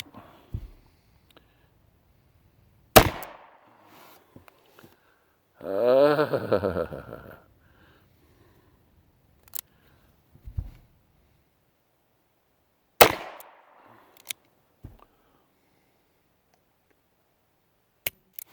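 A Diamondback Sidekick single-action revolver fires several sharp, loud reports spaced seconds apart, each cracking and then dying out fast. A voice speaks briefly between the shots.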